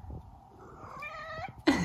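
A cat meows in a drawn-out, wavering call indoors, ending in a louder sharp note, over a low rumbling background that may be purring.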